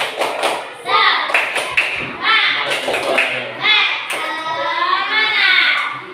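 A class of fourth-grade children doing a rhythmic spirit clap, sharp bursts of claps in a patterned sequence mixed with their chanting voices, loud and close.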